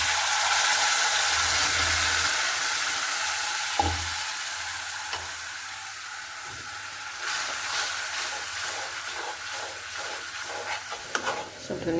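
Ground paste sizzles and spits in hot oil in a kadai, a steady broadband frying hiss with occasional stirring clatter and a few sharp clinks near the end, close and fairly loud throughout.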